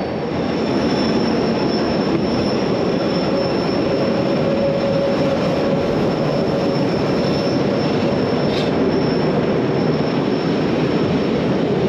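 An RhB Ge 6/6 I Krokodil electric locomotive hauling a train on the Rhaetian Railway, leaning into a left curve on the approach to Filisur: loud, steady rumble of wheels on rails with a thin sustained flange squeal over it, close by, no voices.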